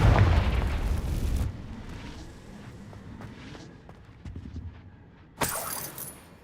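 Confringo spell explosion in Hogwarts Legacy: a loud, booming blast opens the moment and fades over about a second and a half, followed by scattered small impacts and a sharp bright burst near the end.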